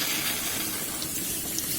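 Cold water runs from a kitchen tap in a steady, continuous broadband rush, close and even throughout, with no speech.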